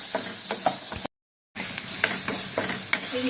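Chopped onions sizzle in a little oil in a home kitchen pan, a steady close hiss broken by stirring scrapes, with a brief moment of total silence midway before the frying resumes.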